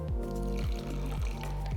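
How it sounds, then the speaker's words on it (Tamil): A little water is poured into rava paniyaram batter, making a brief, soft trickling sound up close. "ஸோ இப்போ நான் கொஞ்சம் தான் தண்ணி ஊற்ற போகிறேன்"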